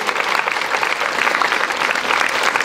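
An indoor audience at a Hungarian folk dance festival in Marosszentgyörgy applauds the Jászberény delegation, loud dense clapping close by that holds steady without pause.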